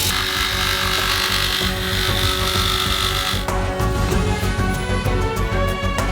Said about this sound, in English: and then cut the pipe with a jigsaw.